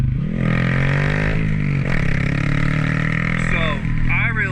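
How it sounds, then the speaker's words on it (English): Honda Grom motorcycle exhaust while riding, a loud, steady engine drone with a rich tone that holds close and continuous, its pitch bending slightly up and down as the throttle shifts. "My exhaust, I don't even know what it is. It sounds great"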